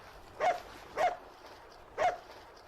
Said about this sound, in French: Il avait jappé toute la nuit